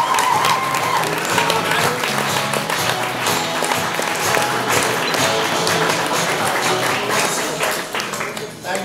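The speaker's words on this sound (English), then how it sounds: "Y'all gotta start clapping, put your hands together for our very first comic of this certain game." Audience at a comedy showcase clapping and cheering to welcome a comedian onto the stage, a loud dense wash of applause with a voice speaking over it.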